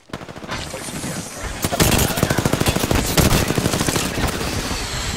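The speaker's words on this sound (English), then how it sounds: "Getting shot at." Rapid automatic gunfire in the battle royale game Apex Legends rattles in a loud, sustained burst of tightly spaced shots after a brief quieter opening.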